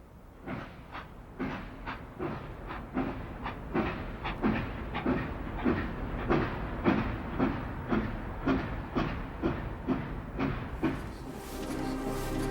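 A train rolls along a railway with a steady clickety-clack of wheels over rail joints, even rhythmic beats at a moderate distance, ending in a rising hiss.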